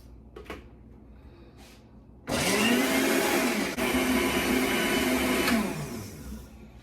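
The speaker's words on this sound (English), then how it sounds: "I am going to pour this in the blender, and you want to get it into a blender until nice and smooth" A blender purees blueberries, whirring loudly for about three seconds, the motor pitch steady, after a couple of soft clicks and handling sounds; it then spins down.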